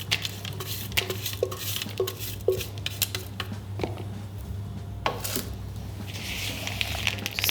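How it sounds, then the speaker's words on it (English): A spatula folds bits of creme pat into cream in a bowl, giving soft scraping and light clinks against the bowl in an uneven rhythm, close and fairly quiet. "now with a spatula, I'm going to incorporate these bits"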